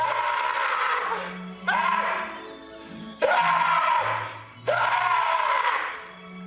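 A man screams in anguish while chained to a pole in the horror film Tusk, four long, strained, wailing cries in succession, each rising then trailing off, loud and close over a low background drone.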